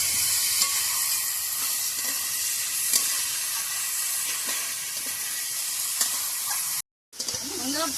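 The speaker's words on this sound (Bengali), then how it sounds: "আমার পুরো ভাজা হয়ে গেছে ডুমুর," Figs fry in a pan with a steady, close sizzle and hiss, occasional stirring scrapes breaking through, then a brief cutoff before faint handling noise.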